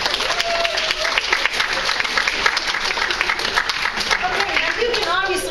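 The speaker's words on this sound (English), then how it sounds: "Give him a round of applause." Audience giving a round of applause at a debate workshop lecture, dense continuous clapping with some crowd voices and a few whoops mixed in, loud and sustained throughout.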